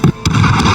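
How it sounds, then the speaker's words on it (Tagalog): Explosions in an anime fight, a quick series of sharp bursts: one loud crack, then another a moment later, with a rumbling tail and no speech. "Isang malakas na pagsabog na naman ang naganap."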